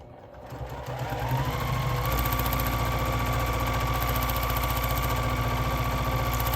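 A home sewing machine runs steadily at high speed during free motion quilting, a dense rapid stitching rhythm that ramps up in the first two seconds and then holds constant, close by.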